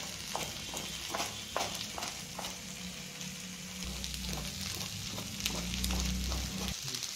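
Leftover-rice fried rice with garam masala is stirred in a pan: a spoon scrapes in a steady rhythm of clicks over a continuous, moderately quiet sizzle.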